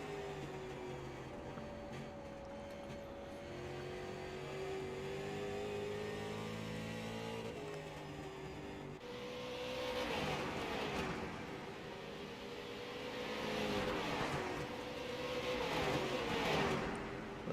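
Several race cars on a short oval in the iRacing sim run close together, a steady engine drone with rising and falling passes and louder surges toward the end.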